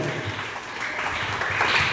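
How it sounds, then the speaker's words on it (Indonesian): A gathering at a Ramadan religious study session claps together, producing a short, moderately loud patter of hands with a roomy, slightly muffled quality. "Oke, ayo tepuk tangan."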